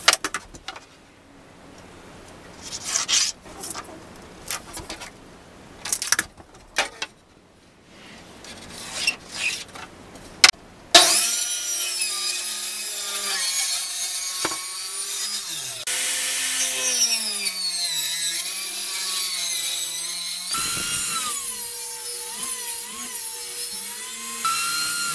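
A saw cuts through a wood panel for a tool cabinet bottom, giving a steady, loud whine with shifting pitch that runs unbroken for about fourteen seconds, after a stretch of quieter shop knocks and handling noises.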